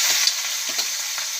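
Cumin seeds hit hot oil for tempering before brinjal cooking, giving a steady close sizzle with faint crackles and stirring, no talk over it.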